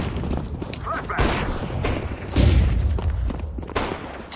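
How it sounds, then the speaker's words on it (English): A flashbang grenade goes off in Counter-Strike 2 gameplay as a loud, low thumping blast, with several heavy booms and crashes of nearby combat layered in a busy, dense mix. "I'm throwing a flashbang."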